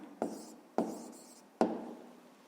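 A pen writes an answer on paper while a math exercise is being solved, making three short, quiet scratching strokes spaced apart with soft friction between them, and no talking.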